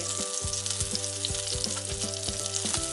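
Garlic sizzles in a hot pan beside searing salmon fillets, a steady close frying hiss with regular soft clicks and taps throughout, no talking.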